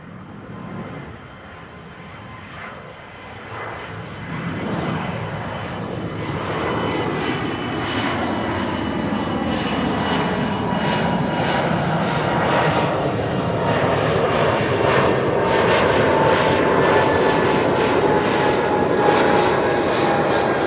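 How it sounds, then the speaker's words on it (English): An Embraer E2 jet taking off from Schiphol's Kaagbaan runway 24, its engine roar swelling steadily from a moderate rumble to a loud, sustained thrust with shifting whine and no talk. "E2 Embraer to Bilbao up next."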